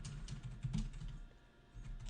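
Someone types a networking command on a computer keyboard, producing a short close burst of quick, irregular key clicks and taps with nobody speaking.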